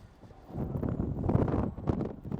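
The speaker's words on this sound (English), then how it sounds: "God, that wind is cold today" Cold winter wind buffets an outdoor microphone in Laredo, a low rumbling roar that swells and gusts unevenly over a couple of seconds, loud and close with no voices.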